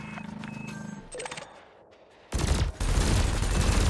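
A ship's cannon fires in the space combat game Elite Dangerous, loud heavy bursts in quick succession after quieter cockpit beeps and tones.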